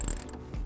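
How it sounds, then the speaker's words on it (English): A hand ratchet fitted with a 10 millimeter socket turns a nut under a cover on a 2014 Ford Fusion during wiring harness installation, giving a brief, close run of mechanical clicking. "using a 10 millimeter socket"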